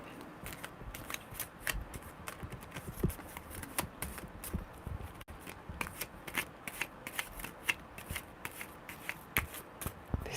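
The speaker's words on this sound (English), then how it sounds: "Very good shuffles." A deck of tarot cards riffled repeatedly, crisp fluttering bursts with small taps in between, close and fairly quiet, no talking.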